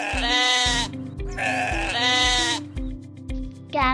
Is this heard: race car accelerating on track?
no